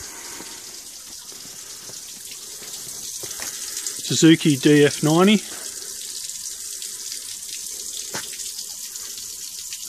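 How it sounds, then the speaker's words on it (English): Water runs steadily in the background near a boat fitted with a Suzuki DF90 outboard, a faint wash under a voice that speaks briefly. "Just got the water running in the background there."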